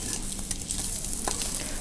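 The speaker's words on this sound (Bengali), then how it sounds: "এর সাথে আরেকটু ভালো করে মিক্স করে আরেকটু ভেজে নেবো" Flour-coated filling sizzles and fries in a pan while being stirred, a steady close hiss with small scraping stir sounds and a sharper clink near the end.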